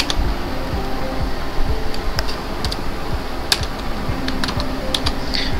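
Computer keyboard keys pressed while a command is typed into the Windows command prompt, sparse crisp clicks standing out over a loud, constant hiss and hum of background noise.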